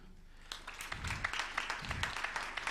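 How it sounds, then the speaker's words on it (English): A crowd at a sports career fair and symposium in Nairobi applauds a speaker. The clapping is soft and a little distant, rising after a quiet start and continuing steadily, with low rumbling room noise underneath. "Let's clap for Shiko."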